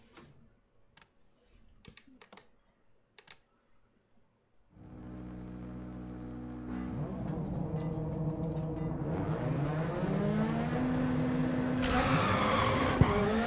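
A rally car launches in the Dirt Rally video game: after a few seconds of faint clicks, the engine roars up and holds loud, with rising revs and gear changes toward the end.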